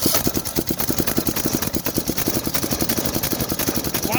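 Riding lawn mower engine starting and running with a hydrolocked motor: a steady, loud, close chugging putter with fast regular firing pulses throughout.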